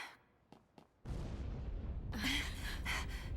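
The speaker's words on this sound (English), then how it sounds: "That's the explosion." An explosion in the video game Final Fantasy XIII: after a few faint clicks, a sudden heavy rumbling blast begins and holds as a loud, sustained roar for over two seconds.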